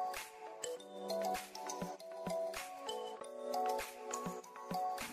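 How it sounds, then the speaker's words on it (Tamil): Mustard seeds splutter and pop in hot oil for a Tamil mint and coriander thuvayal, giving quiet scattered crackles and sharp little bursts over a faint sizzle, with no talking. "கடுகும் பொரிஞ்சிடுச்சு"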